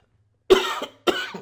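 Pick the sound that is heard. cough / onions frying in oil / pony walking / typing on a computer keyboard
cough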